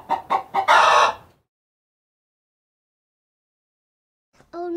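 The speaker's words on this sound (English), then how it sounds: "Chicken." Chicken clucks sung in a preschool farm song, a few quick rhythmic bursts at the start followed by a long silence and a faint return of sound near the end.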